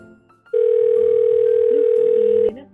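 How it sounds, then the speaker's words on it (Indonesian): A telephone dial tone comes on abruptly and holds as a single steady, loud tone for about two seconds before cutting off, with faint room noise around it. "Ini pakai telepon lagi."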